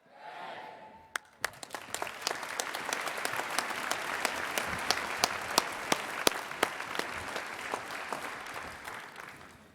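Sustained applause from a school senior prizegiving audience, a dense, steady wash of many hands clapping for about nine seconds after a brief murmur, with a few sharper claps standing out.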